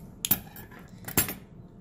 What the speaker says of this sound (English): make sure you grab the clear straws, cut off a little more than an inch